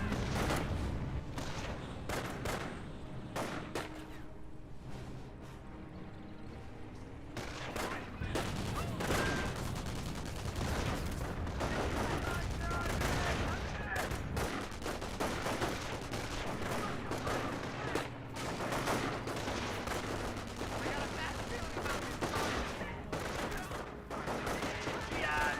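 Sustained battlefield gunfire in Company of Heroes, with rifle and machine-gun bursts and occasional booms running dense and loud throughout, layered under in-game voices and ambient combat noise.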